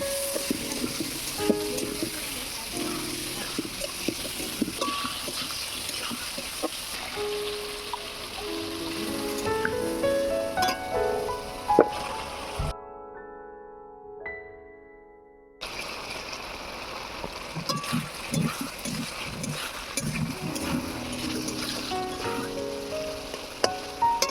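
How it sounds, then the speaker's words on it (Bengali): Washed potatoes sizzling and being stirred in a pan with ground coriander, chili powder and other spices, a steady crackling fry with scraping strokes, briefly cut to silence partway through. "আলুটাকে ভালো করে একটু কষিয়ে নিতে হবে"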